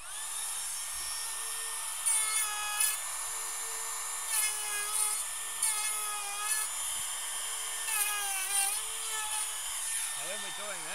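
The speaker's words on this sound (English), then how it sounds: "And then literally we just go through, router this out." A router cuts plywood cladding for a batten, giving a high whining spin with repeated bursts of harsher cutting as the bit bites into the wood. The bursts come in quick passes over a steady motor hum, then the router winds down.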